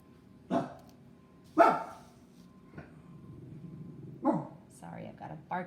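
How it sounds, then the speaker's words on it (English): A dog barks outdoors several times at irregular intervals, a few sharp woofs standing out over a quiet room, with someone speaking between the barks. "barking dog."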